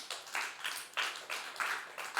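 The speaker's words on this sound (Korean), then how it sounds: "그렇게 하기를 소망하면 박수 한번 쳐보세요" A church congregation claps in a soft, fairly distant rhythm, about seven bursts of many hands at roughly regular intervals, with no talk over it.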